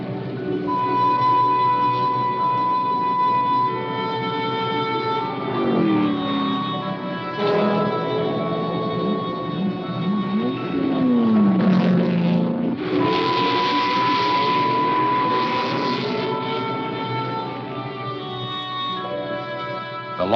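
Powerful Le Mans endurance race car engines, including factory Ferraris, whine steadily through the night, a sustained layered drone with slowly shifting pitch as cars pass at a distance.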